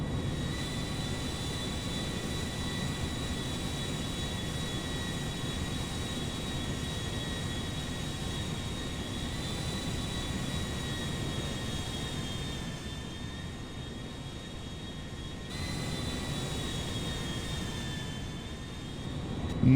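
Boeing 737 MAX9 jet in GTA 5 climbing out after takeoff from Los Santos, a steady loud broadband engine roar with sustained whining tones, continuous for the whole stretch and dipping slightly near the end.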